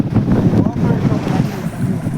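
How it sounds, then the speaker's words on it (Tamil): Strong wind buffets the microphone in a steady roar at sea on a fishing boat, with water and boat noise underneath throughout. "காற்றும் அதிகமாக தான் இருக்கு."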